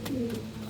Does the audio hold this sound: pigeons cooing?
yes